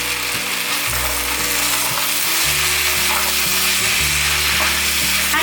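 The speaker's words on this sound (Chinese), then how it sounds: "翻炒一下" Black fungus and shiitake mushrooms are stir-fried in a wok, with a steady loud sizzle running throughout. Scraping strokes of the spatula against the pan can be heard alongside it, and nobody speaks.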